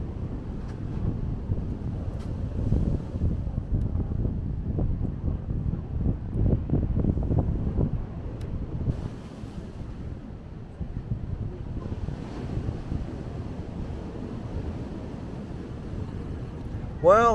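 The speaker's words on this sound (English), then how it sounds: "just the wind was so crazy I had one hand on the easel the whole time" Strong coastal wind at North Avoca buffets the microphone in heavy gusting rumbles, with waves washing behind, easing for a spell before gusting up again; a person talks intermittently over it.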